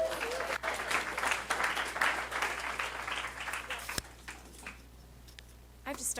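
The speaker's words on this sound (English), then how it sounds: "give her a round of applause" An audience applauds an award recipient at a Keller Williams Arizona company meeting, a steady broad clapping that runs for several seconds and thins toward the end, with a few voices mixed in.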